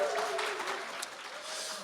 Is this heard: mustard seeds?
no